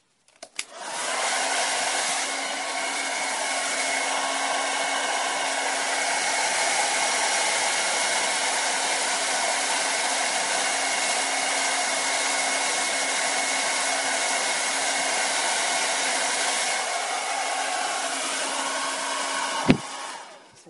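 A hair dryer blows hot air onto styled hair at the roots for volume, with a loud, continuous whoosh running unbroken for about twenty seconds before it clicks off.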